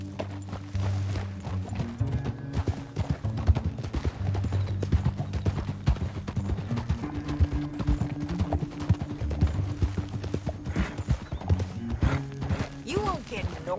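Horse hooves clop along in Red Dead Redemption 2, a steady stream of beats under a sustained musical backing, with occasional sharper knocks throughout.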